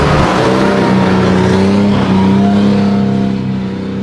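A 4WD engine revs hard and holds high, labouring through soft sand on Fraser Island, loud and close with a steady strained drone that eases slightly near the end; no talk.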